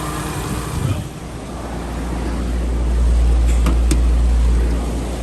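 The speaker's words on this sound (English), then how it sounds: "Got the air cranking in it. Motor's running good." A Subaru engine idles with the air conditioning running, a steady low rumble with a constant fan-like hum that swells slightly midway, heard close from inside the car.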